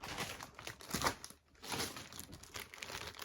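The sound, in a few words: rustling bags of vintage thread spools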